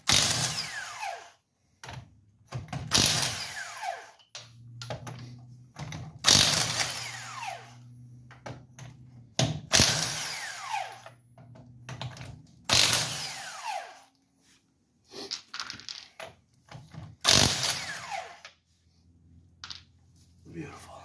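Chrome sockets work the lug nuts off a 2018 Silverado truck wheel in short, buzzing mechanical bursts. The bursts repeat every few seconds at a moderate distance, with quiet gaps between them.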